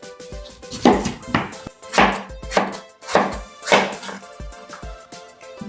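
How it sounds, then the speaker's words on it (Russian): A knife chopping potatoes into small cubes on a cutting board in a steady series of sharp, close thuds, about two per second, with quiet pauses between. "беру приблизительно 2 вот такие вот картошки и режу ее на маленькие кубики"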